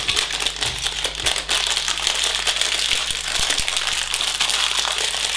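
A crinkly plastic bag of LEGO pieces from the Lord of the Rings Black Gate set is torn open and handled, giving continuous close-up crackling and rustling with a few sharper clicks.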